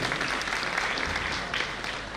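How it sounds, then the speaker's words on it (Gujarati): Continuous loud applause from a crowd honouring a guest at a felicitation ceremony, thick and even with no pauses and no voices. "જોરદાર તાળીઓથી વધાવો જીતુભાઈને."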